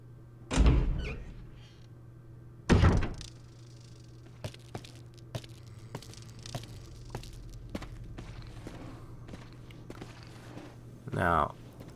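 Heavy door opening in the Resident Evil Remake, with loud thudding clunks early on, a scattering of sharp footstep-like clicks over a low hum, and a final grinding creak, with speech nearby.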